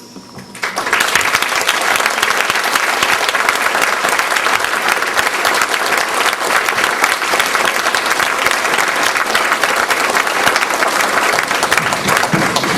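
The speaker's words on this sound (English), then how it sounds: "I want everybody here to applaud them, the priests of the Ogdensburg Diocese." Dense, steady audience applause for the priests of the Ogdensburg Diocese at an evening anniversary celebration, starting abruptly after a brief quiet moment and continuing loud and unbroken throughout.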